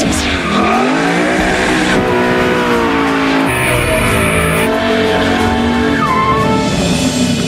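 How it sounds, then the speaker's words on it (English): A Ford Mustang Boss 302 doing a burnout to warm its tires, loud revving engine with long squealing tire screech, pitch rising and falling, close and continuous. "First, they warm up the tires."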